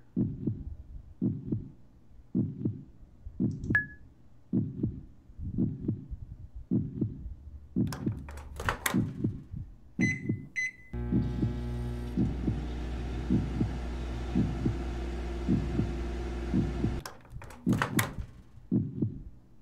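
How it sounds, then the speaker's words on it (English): Rhythmic heartbeat in a video game, steady thumping pulses for about ten seconds, then a loud droning microwave hum takes over before the beats return near the end. "I can hear her heartbeat."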